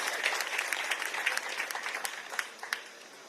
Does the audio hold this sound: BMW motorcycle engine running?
no